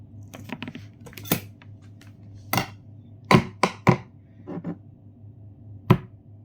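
Onions being chopped on a board for a vegetable soup dinner, a series of sharp, irregular knife taps, some close together and some spaced apart, loud and near over a steady low background hum.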